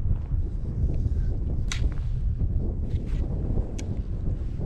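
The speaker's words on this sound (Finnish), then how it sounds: "Vähän tuulee." Steady wind gusting across an open wilderness fell on a cloudy day during a ski trek, roaring continuously close to the microphone with a few faint, brief higher sounds over it.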